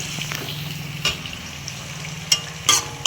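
Potatoes frying in a pan, a steady close sizzle with scattered scraping stirs and a few sharp clinks near the end, no voices.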